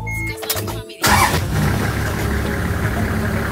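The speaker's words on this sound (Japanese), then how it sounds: "まずはアイドリングしてみます。" Bus engine starting and settling into a steady idle after a brief electrical whine, the low rumbling hum continuing evenly and close by.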